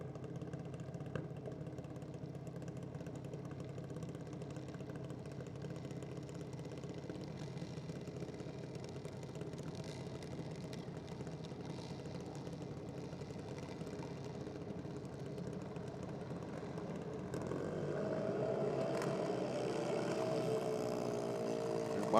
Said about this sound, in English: Lucci rolling up to the start line. He's a junior dragster for Lucci Civil.